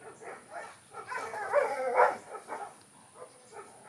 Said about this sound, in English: now the dogs are barking because they're out there with the goats